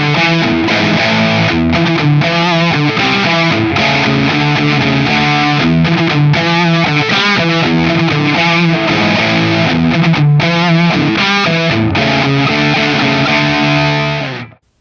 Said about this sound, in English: let's start off by testing the humbucker with a little gain